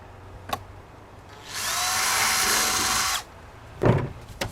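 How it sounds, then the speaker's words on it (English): A power drill whirs steadily for under two seconds as it bores through a plastic bucket, with a few sharp clicks and knocks before and after. "Go the opposite side of the bucket, drill another hole."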